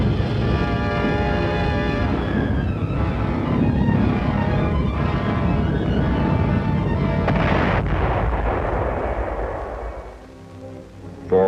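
Anti-aircraft gun batteries near Antwerp firing at incoming V-1 flying bombs, a loud continuous roar of overlapping blasts and rumbling booms that fades briefly near the end.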